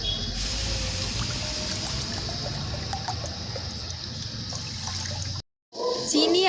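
Water is poured steadily onto sugar in a bowl to make syrup for gulab jamun. The continuous splashing rush lasts several seconds before cutting off abruptly, with a voice faintly present.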